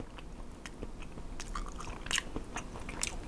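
Someone eating salt-pickled Russian fish together with potato, with soft, close bites and wet chewing plus a few crisp crunchy snaps, fairly quiet and without talk.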